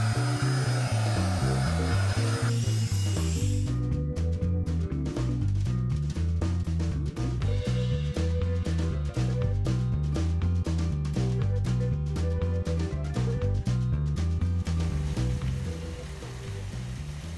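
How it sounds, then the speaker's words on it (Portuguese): A vacuum cleaner sweeps up dirt from a floor during household cleaning. Its loud, steady motor drone is broken by rapid repeated rattling pulses as it moves over the surface, with no speech. "Aqui a gente tem um aspirador de pó, eu uso ele assim pra poder varrer, né, as sujeirinhas que tem no chão"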